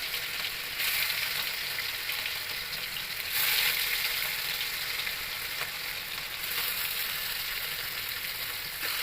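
Marinated fish frying in a pan, a steady close sizzle of hot oil with brief louder bursts of crackle, heard alone without talk.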